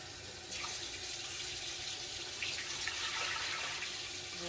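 A kitchen tap runs steadily into a soup pot, a continuous splashing hiss that starts abruptly and holds at an even level without speech.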